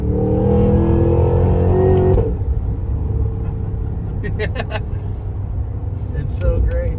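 Cammed 2023 Cadillac Escalade V engine, a deep loud rumble that rises and holds for about two seconds, then settles into a lower idle-like drone while people talk over it.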